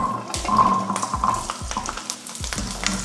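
Garlic sautés in a pan where chilies were just roasted, a constant sizzle under four or five distinct stirring scrapes from a spoon, close and fairly loud, with no talk.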